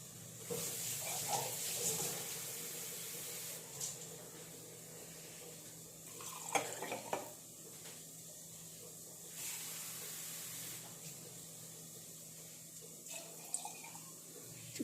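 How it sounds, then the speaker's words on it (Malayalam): Water runs and splashes into a container for making pickle, a continuous hissing pour close by with a few clinks and shifts partway through. "ഇത് ഇതിനകത്ത് നമുക്ക് വെള്ളം ഒഴിക്കാം"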